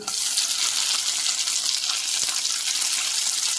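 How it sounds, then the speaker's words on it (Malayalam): Tomato and sliced onion frying in coconut oil in a pan, a steady loud crackling sizzle throughout with no talking. "ഇതിലേക്ക് ഞാൻ തക്കാളി കൂടി ചേർത്ത് കൊടുക്കുകയാണ്"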